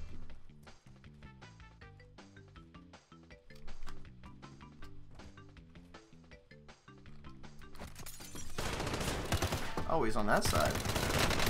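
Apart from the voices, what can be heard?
gunfire from a gun in the video game Call of Duty Warzone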